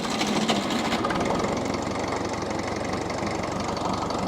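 Engine of a machine fitted with a tiller running steadily in the French countryside, with a loud, even mechanical drone and a knocking pulse, close by and unbroken throughout.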